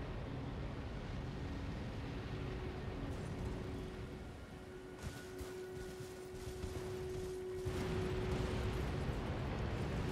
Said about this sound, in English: Oh, there's explosions.